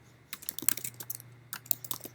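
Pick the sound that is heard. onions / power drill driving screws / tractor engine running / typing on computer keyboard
typing on computer keyboard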